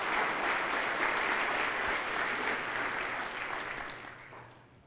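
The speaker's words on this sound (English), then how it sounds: "give a big round of applause for all the TEXPERS staff" A conference audience applauds in a broad, steady wash of clapping that holds for several seconds before tapering off toward the end.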